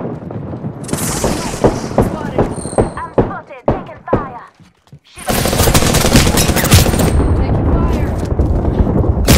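Gunfire in an Apex Legends match: a burst of rapid shots that stutters and pauses, then a sustained, loud stream of automatic fire close by, with a voice speaking over part of it.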